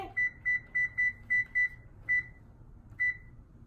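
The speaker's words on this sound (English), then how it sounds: "turn on our oven to 400" A kitchen oven's control panel gives a series of short electronic beeps as it is set to preheat to 400, eight clear tones in an uneven run with gaps near the end.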